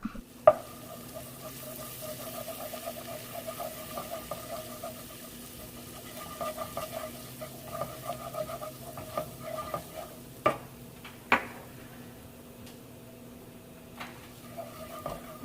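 Onion powder and paprika warming in melted butter make a soft, low sizzle, with intermittent utensil taps and scrapes against the pan rising over the steady background.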